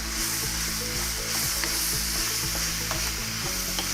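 Zucchini seasoned with salt and pepper, sizzling in a pan while a utensil stirs it in quick repeated scrapes, close and steady, with no voices.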